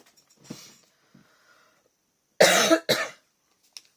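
A faint sniff and small throat noises, then two sharp, close coughs in quick succession, followed by a tiny click.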